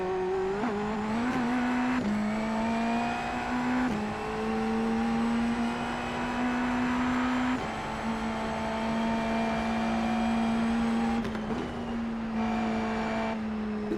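A Dallara IL15 race car in the iRacing sim holds a loud, steady engine drone that shifts pitch at intervals, with a short skid woven in, heard alone without talk.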